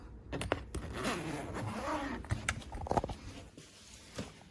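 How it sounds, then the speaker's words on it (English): Zippers on a black Samsonite Freeform hardside expandable spinner suitcase, drawn in quick, loud raspy pulls close up, several strokes running together, with a few clicks and taps from handling. "Zippers work really well."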